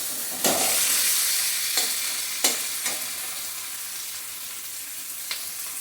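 A broken fish head fries in hot oil until deep red and crisp, a steady sizzling hiss punctuated by several sharp scraping clacks from a spatula stirring the pan.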